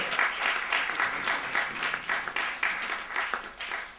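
An audience applauds at an award function in New Delhi, steady close clapping from many hands that pulses in rapid bursts and keeps up without letting up for several seconds.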